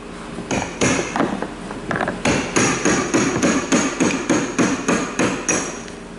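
Hammer and chisel strike a fuel pump part from a Jeep Cherokee XJ in a repeated run of sharp metallic blows, close and loud, settling into a steady rhythm in the second half.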